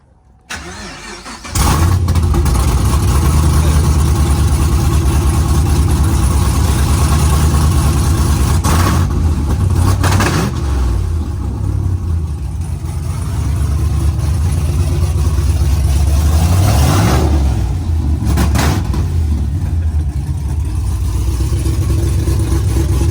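A 2015 Chevrolet Camaro ZL1 fitted with 2-inch long tube headers cranks and fires up, then settles into a loud, deep idle that stays close and steady, with a couple of short revs rising above it.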